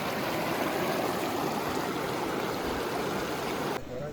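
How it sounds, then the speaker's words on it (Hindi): Clear glacier-fed mountain stream on the Naran to Babusar Pass road rushes in a steady, loud, close wash of flowing water, cutting off abruptly near the end. "बहुत सही ग्लेशियर का पानी है और इतना साफ सुथरा है माशाल्लाह से"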